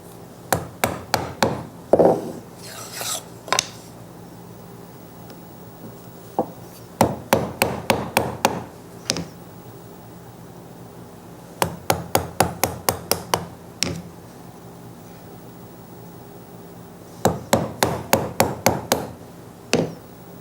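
A chisel is struck repeatedly with a mallet while chopping out wood dovetails, the sharp knocks coming in quick bursts of five or six, separated by quiet pauses.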